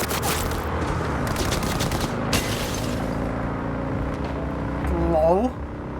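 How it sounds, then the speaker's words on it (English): Police open fire in the video game Cyberpunk 2077, sending bursts of rapid gunshots over engine and street noise. The volleys come in loud clusters before fading into driving sounds. "Police are shooting at me."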